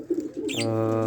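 A dove gives a soft, low coo near the end, after some faint bird chirps, heard close and alone with no talking.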